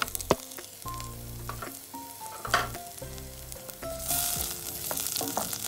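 Chopped onion and green chili fry in three tablespoons of melted butter, a steady sizzle with occasional stirring under tonal background music.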